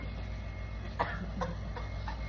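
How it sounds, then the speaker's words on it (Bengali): A couple of short coughs over a steady, humming background, with no talking. "এই গরমে তোর কাশি হয়ে গেল নাকি?"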